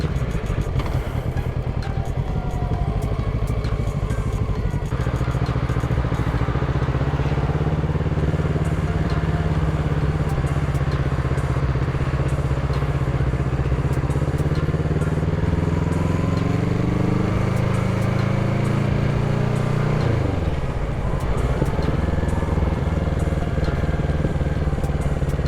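A motorcycle ridden on a shopping trip, its engine droning loudly and continuously for the whole stretch with slight rises and dips in pitch as it changes speed.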